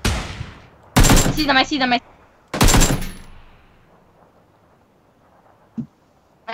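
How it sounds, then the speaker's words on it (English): PUBG gunfire on a bridge: two loud, close bursts of rapid automatic shots about a second long each, followed by a fainter single report, with a player talking between them. "Opening fire."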